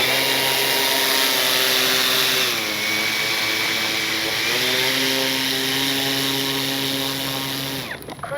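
The electric motor of an FMS 1400mm Pitts RC airplane runs as a loud, close, whining hum whose pitch dips and settles twice before cutting off abruptly at the end, with no voices.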